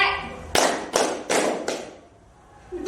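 A group claps out the 'tepuk sore' rhythm: four quick, loud claps spaced evenly, followed by a short pause and one lighter final tap, all in a close indoor room.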